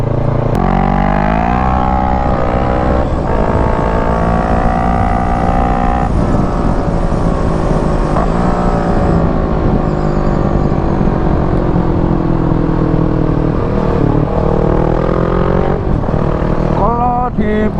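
A Kawasaki ER6N motorcycle cruises fast in fourth gear at around 160–170 km/h. Its engine holds a loud, continuous harmonic drone with slight rises and dips in pitch, wrapped in rushing wind.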